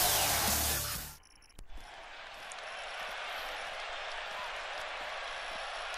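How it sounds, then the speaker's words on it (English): A loud wash of crowd noise fills a WWE 2K17 video game arena, then drops off sharply and gives way to a steady, distant crowd murmur with faint thuds. "as you can hear by the roar of this crowd"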